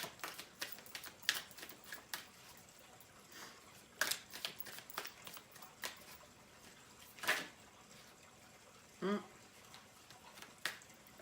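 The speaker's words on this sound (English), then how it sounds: "Oh, cards flipped over." Tarot cards are flipped and shuffled in a series of faint, sharp papery flicks and taps at uneven intervals, close but quiet, with a few louder snaps.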